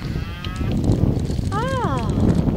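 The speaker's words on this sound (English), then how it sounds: "Oh, there's some cows." A cow moos with a rising and falling call, heard outdoors in Kingston Seymour over heavy wind rumble; a fainter earlier bellow precedes it.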